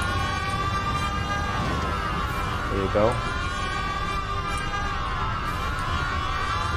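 Police car sirens in the video game Mafia 1 wail steadily throughout with layered rising and falling tones, under game engine noise, while someone talks briefly over them.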